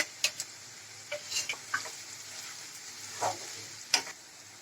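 Chopped onion and ginger fry quietly in oil for a liver and chana dal dish, a faint low sizzle broken by scattered sharp crackles and spoon taps.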